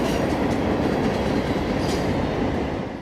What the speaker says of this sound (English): 613 is the Waycross to Mulberry train that brings phosphate empties and sulfur loads to the